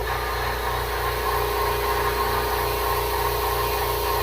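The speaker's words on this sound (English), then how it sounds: "As far as air compressor goes, that is not too bad. It's still kind of loud" A Harbor Freight Fortress 26-gallon air compressor runs steadily, a loud continuous motor drone with an even throbbing pulse and no pauses, close by.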